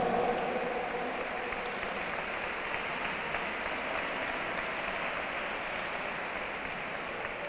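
An audience at a cross duathlon awards ceremony in Bollullos, Spain, breaks into a steady, even round of applause that keeps going for several seconds and trails off slightly near the end.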